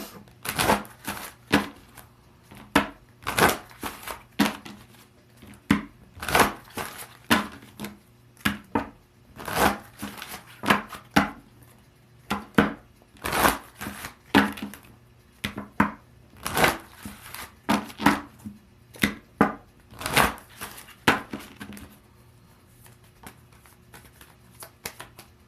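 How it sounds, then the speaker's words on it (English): Tarot cards are shuffled and flipped in a steady run of crisp, close riffles and slaps, the brisk bursts repeating again and again with short gaps and no voice. "I'm going to flip you some advice cards, some Soul's Journey cards"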